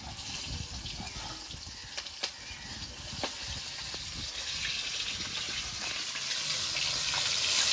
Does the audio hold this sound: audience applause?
no